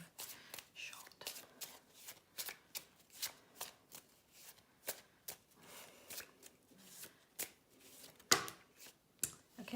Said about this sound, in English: I was shuffling kind of out of shot.